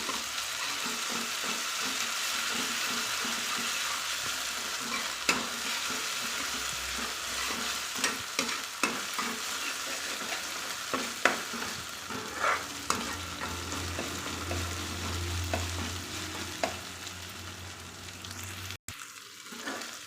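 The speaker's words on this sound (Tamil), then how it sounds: "ஒரு ஸ்பூன் இஞ்சி பூண்டு பேஸ்ட்டு சேர்த்துக்கலாம் சேர்த்துட்டு நல்லா பச்சை வாசனை போகிற அளவுக்கு வணக்கிக்கலாம்" Ginger garlic paste sautéing and being stirred in a pan for meal maker chukka, a steady close sizzle with repeated scraping stir strokes throughout, no voices.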